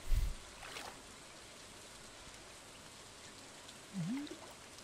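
Steady, faint rain patters down in the farming video game Stardew Valley, with a soft thump at the start and a brief chirp-like tone near the end.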